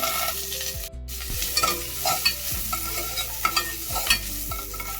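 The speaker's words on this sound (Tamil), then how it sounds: "பொட்டுக்கடலை, வேர்க்கடலை நல்லா வறுபட்டுருச்சு." Mustard seeds, curry leaves, roasted gram and peanuts frying in hot oil in a kadai for masala pori, a busy sizzle with crackles and regular scraping strokes of a spatula, close and unaccompanied by speech.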